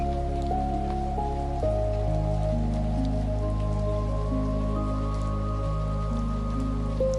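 Steady rain falls outside a cabin, a soft continuous patter heard beneath sustained, gentle musical tones that change pitch slowly.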